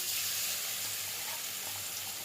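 Chopped garlic sizzles steadily in hot oil in a pan for a homemade momo sauce, a continuous close crackling hiss with faint low bubbling underneath and no talk.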